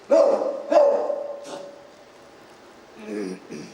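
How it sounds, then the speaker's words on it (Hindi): A dog gives two loud, close barks, then a pause and a fainter yelp or whine, with speech-like voices present around the barking. "कितना भौंकता है कुत्ता।"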